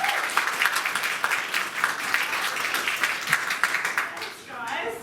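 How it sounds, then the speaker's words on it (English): An audience at a developer conference breaks into steady, dense applause for a speaker. The clapping is loud and sustained throughout and then thins slightly near the end. "So, round of applause, Ming."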